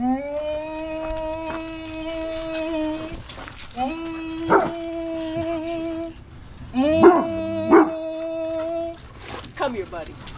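A dog at a roadside stop on an RV trip through Montana and the Dakotas whines and yips repeatedly in high, tonal bursts, close and fairly loud, with a few sharper barks in between.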